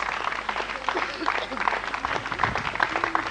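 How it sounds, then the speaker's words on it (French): Audience applause for Cape Verdean women dancers rolls on beneath a loud voice speaking French over it, clapping mixed with crowd noise throughout. "continuer à applaudir très fort ces femmes capverdiennes"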